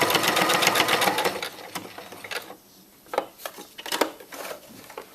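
A sewing machine runs an edge stitch on a paper-pieced quilt, loud rapid needle chatter at first, then slowing into short intermittent bursts.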